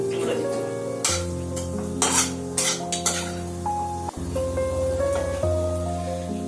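Black pepper fries in a pan while a utensil stirs and scrapes against the metal, giving several sharp clinks over a low sizzle, with a steady musical tone running underneath.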